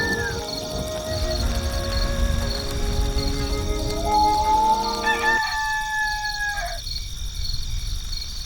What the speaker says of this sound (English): This rooster wakes me up every single day.